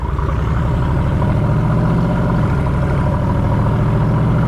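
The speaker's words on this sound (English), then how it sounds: "You can hear the whistle of the turbos like non-stop." A Mercedes G-Wagon with an aftermarket exhaust drones steadily and loudly at close range, a low harmonic rumble with a slight pitch dip midway, while any turbo whistle stays buried in the engine noise.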